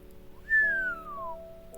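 A single loud whistle, sliding downward, as the astonished cry of a newspaper boy, clear and close over a faint steady hum, lasting under a second.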